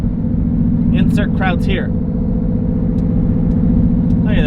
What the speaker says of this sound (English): Just a street car cruising through the neighborhood